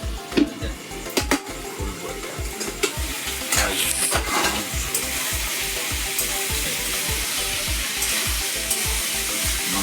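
Goat meat cooks in a covered kadai with a steady close sizzle, punctuated by a regular pattern of soft low thumps and a few sharper clatters near the start.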